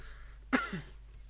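A single short cough, close and fairly quiet, followed by a softer trailing cough sound against a faint background hum.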